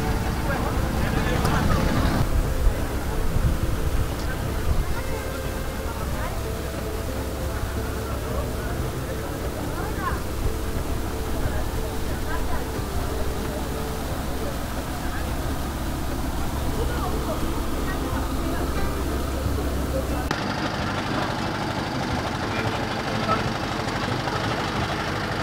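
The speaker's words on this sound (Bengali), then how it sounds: "বালুবাহী ট্রলার।" A sand-carrying trawler boat engine on the Buriganga river drones low and steady throughout, with a knocking idle rumble, while people talk over it.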